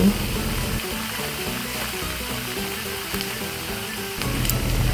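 Duck meat dry-roasts in a pan for Lao larb, giving a steady, close sizzling hiss with a low tonal hum beneath, growing slightly louder near the end.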